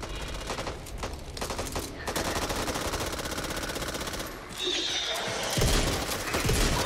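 Heavy shotgun fire in the co-op video game Back 4 Blood: dense, rapid blasts pile up almost continuously at close range, dipping briefly before resuming even louder.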